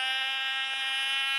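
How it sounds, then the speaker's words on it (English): A glow-fuel model airplane engine on a 5-3 nylon prop with 25% fuel screams at a steady high pitch, loud, close and unbroken, with no talk. "Motor's running like a dream"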